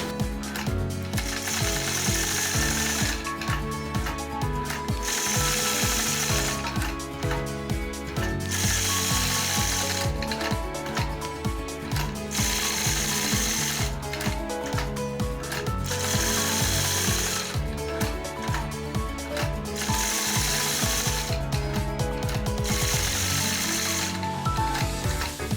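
A sewing machine stitches point-to-point quilting across a nine-patch star block in rapid mechanical bursts, each run of fast needle clatter separated by short pauses as the fabric is repositioned, close and steady.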